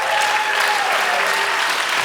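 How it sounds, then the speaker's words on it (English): A conference audience gives a lecturer a loud, continuous round of applause, dense and even for the full two seconds. "Let's have another round of applause for Dennis."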